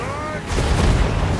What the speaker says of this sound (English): I'm going to try to bomb his death blob